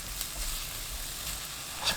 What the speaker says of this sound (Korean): 지글지글 소리 나면 그때부터 10초 더 볶아주세요.